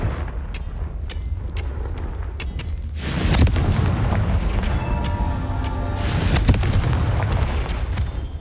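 A fiery Confringo blast spell cast in Hogwarts Legacy gameplay: a loud booming burst erupts partway through and rolls on as a rumble, then a second blast hits a few seconds later over steady game ambience.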